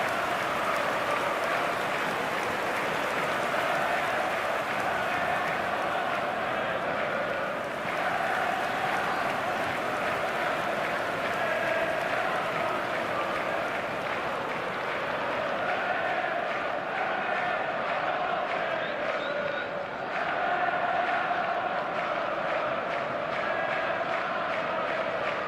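A football stadium crowd at a Portugal European qualifier keeps up a continuous roar of cheering and applause, a broad, distant wash of noise that swells slightly now and then over its full length.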